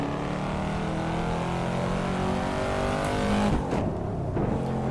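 Corvette C7 Stingray engine droning steadily in the Assetto Corsa racing game, loud and continuous, with a brief shift in pitch as it eases off and picks up again near the end.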